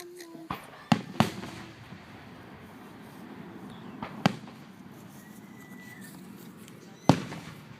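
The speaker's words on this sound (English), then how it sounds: "Are the fireworks in the sky?" Fireworks going off in the night sky, several sharp distant booms and cracks spaced a few seconds apart over a low background rumble, with faint voices nearby.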